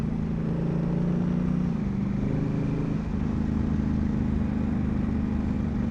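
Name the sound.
Honda Africa Twin motorbike riding on gravel forest road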